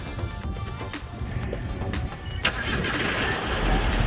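A 1982 Datsun 720 4x4 pickup truck engine cranks and fires up, settling into a steady close, loud running drone with a sharp catch partway through and the engine holding a broadband rumble to the end.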